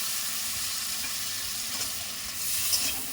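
Cashews and raisins fry in ghee and butter with cardamom for fried payesh, a steady close sizzle with light stirring scrapes near the end.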